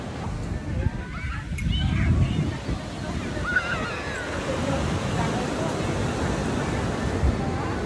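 Choppy ocean surf at a beach in Las Palmas de Gran Canaria, a constant broad wash of waves and wind, with faint distant voices and calls mixed in.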